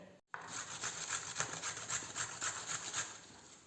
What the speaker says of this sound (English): Get your grater and start grating your squash.